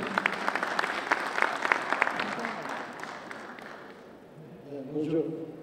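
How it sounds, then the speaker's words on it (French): Hall audience at a Meknes tourism forum applauds a speaker, a steady wash of clapping with sharper nearby claps that fades out over four seconds before a voice begins speaking. "sous vos applaudissements"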